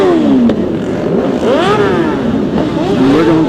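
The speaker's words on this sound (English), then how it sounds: "See all the bikes coming out." Motorcycles pull out together at the start of a memorial group ride. Their engines rev and whine nearby, loud and continuous, with pitches rising as the bikes accelerate past.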